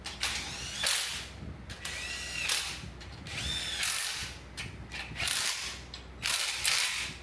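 Electric impact wrench hammers main journal cap bolts tight on a Maserati engine in a repair shop, in repeated loud rattling bursts with brief gaps and a rising whine as each bolt seats.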